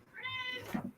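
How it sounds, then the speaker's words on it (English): A house cat meows loudly and close by, one drawn-out harmonic call with a short lower-pitched tail at the end, no voices over it. "Cat's too loud."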